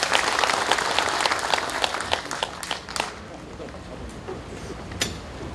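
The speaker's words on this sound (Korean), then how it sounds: "다시 한번 큰 박수 부탁드립니다" Sustained applause from a large audience at a national general assembly of a retired police officers' association, following a congratulatory speech; steady dense clapping that thins out toward the end.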